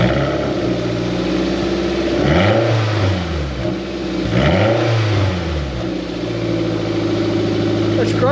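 Toyota MR2 Mk3 engine with the rear exhaust box removed, idling loudly and then blipped through two sharp revs that rise and fall back, close up with no talking.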